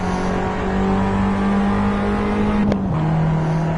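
In the racing game Assetto Corsa, a car engine drones at a steady high pitch with a short rev flare near the end before settling, loud and continuous, with other cars audible around it.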